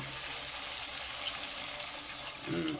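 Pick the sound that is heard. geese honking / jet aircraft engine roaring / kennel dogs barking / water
water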